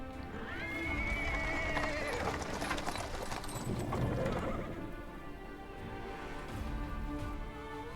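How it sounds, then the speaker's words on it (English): Video game sound: horse hooves clip-clop with a cart rolling over paving stones, and a horse whinnies clearly near the start, all fairly loud and close. "He's interrupted by the sound of wheels rolling on the paving stones."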